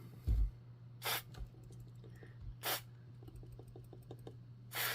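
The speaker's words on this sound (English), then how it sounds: "let me spray some of this F5" Three short hissing bursts of F5 contact cleaner sprayed from an aerosol can onto the parts of a scratchy Astatic D-104 T-UP9 microphone, each puff separated by quiet gaps filled with faint clicks and handling noise, close up.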